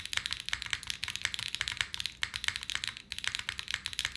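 Rapid typing on an Envoy mechanical keyboard fitted with long-pole switches and an aluminum plate: dense, steady clacks close to the mic, continuous and alone with no voices.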